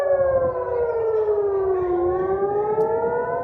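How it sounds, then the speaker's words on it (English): An air raid siren in Israel wails during an Iranian missile attack, a loud, steady rising and falling tone that dips and climbs again, heard alone without voices. "sirens rang out there as it declared a state of emergency, and people took shelter from Iranian missiles"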